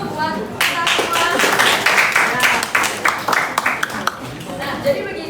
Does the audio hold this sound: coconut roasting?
no